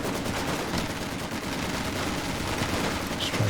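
Infantry squads firing from a building in Company of Heroes 2, with sustained overlapping rifle and machine-gun fire forming a dense, unbroken rattle at close range.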